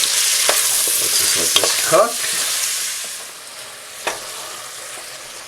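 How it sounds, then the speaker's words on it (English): Vegetables for a chicken stew are stirred with a wooden spoon in a pot, giving a steady sizzle with scraping strokes and a few soft knocks; brief talk is heard near the start. "You can use a wooden spoon to just kind of stir this around."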